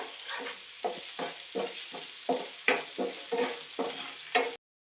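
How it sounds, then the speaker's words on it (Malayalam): Chopped ginger stir-fried over a high flame for chilli chicken, with about ten rhythmic bursts of scraping and sizzling as the spatula tosses it in the pan, close and steady, no talking. "ഇനി ഇഞ്ചി ചോപ്പ് ചെയ്തത് ഹൈ ഫ്ലെയിമിൽ വെച്ച് വേണം ഇത് കുക്ക് ചെയ്യാൻ"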